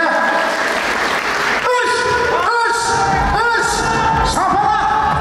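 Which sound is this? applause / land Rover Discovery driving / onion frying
applause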